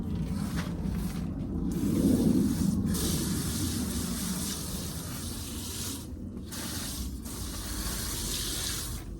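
A potato plant is watered with a steady rush of spraying, splashing water that swells early, then continues evenly through the rest, with no one speaking.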